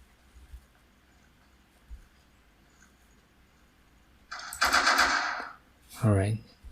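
Automatic gunfire in a first-person shooting video game: one loud, continuous burst lasting about a second after a quiet stretch, then a brief voice.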